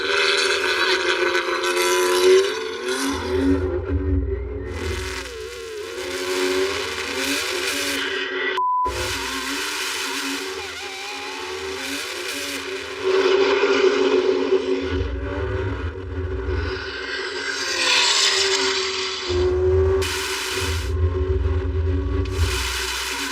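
A Lamborghini Revuelto, a BMW M3 Touring and an Audi R8 line up for a drag race. Sustained engine roar and droning rise and fall in surging bursts, with a loud low rumble at times and occasional voices.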